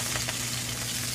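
Butter, about a spoonful, sizzles steadily in a pan while white rice is cooked for mayo chicken, a close, continuous crackling fry with no talk.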